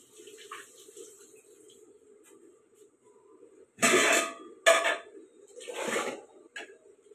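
Rice is washed with water, a faint steady trickle followed by a few loud splashing bursts of water being poured and sloshed, close by, with no talk.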